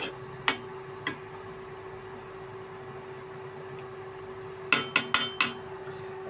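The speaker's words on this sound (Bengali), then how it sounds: "আমরা একটু নেড়ে চেড়ে দিলাম।" Lachha semai stirred in a pan: a couple of sharp utensil clinks early on, then a quick cluster of four scraping knocks near the end, all over a steady low kitchen hum with no talk.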